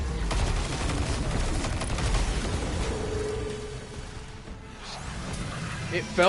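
Enemy gunfire in the Destiny 2 sci-fi shooter, with sustained bursts of shots and whooshing effects blending with game sounds across the scene, while a voice talks over parts of it.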